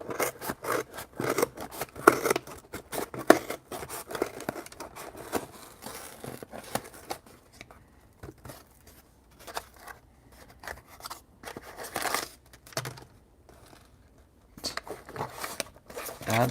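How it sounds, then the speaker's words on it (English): Scissors snip and rasp through a cardboard shipping box in a run of quick, close, irregular cuts and scrapes, with short pauses between bursts and no voices. "Having powerful scissors helps."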